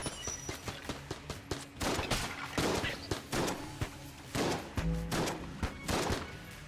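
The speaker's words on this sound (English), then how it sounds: "let's keep using the shotgun." Shotgun gunfire in the video game Enter the Gungeon, a steady run of loud, punchy blasts fired in rapid succession with brief gaps, layered over busy game effects.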